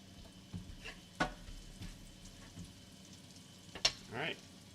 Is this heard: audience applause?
no